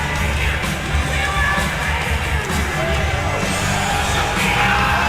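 A standing crowd at an FAC 31 mixed martial arts event between rounds gives off a constant, loud wall of cheering and yelling, with scattered shouts rising above the din.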